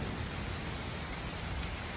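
Rain falls steadily in Atlanta, USA, a dense, even hiss of drops on surfaces that holds constant throughout, with no talking.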